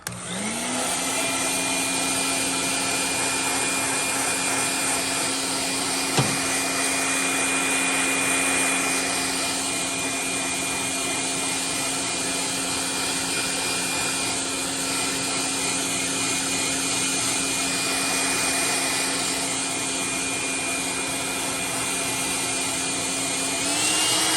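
Heat gun blowing steadily on a painted custom crankbait fishing lure to heat-set the paint, a constant loud whirring hiss with a fixed motor whine that holds for the whole stretch with only a slight bump near the middle.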